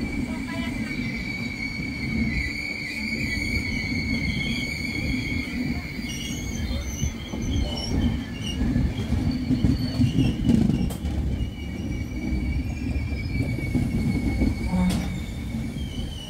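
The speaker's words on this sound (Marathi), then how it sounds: "तर आता ही ट्रेन आली आहे, ती आहे तिरुवनंतपुरम नेत्रावती एक्सप्रेस" The Thiruvananthapuram Netravati Express arrives at Kankavali station while another train waits at the crossing, with a continuous rolling rumble, squealing wheels and high metallic whines sustained over about sixteen seconds, swelling midway.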